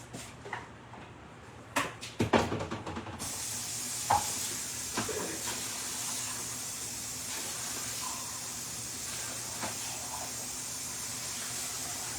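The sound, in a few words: rinsing and draining a can of beans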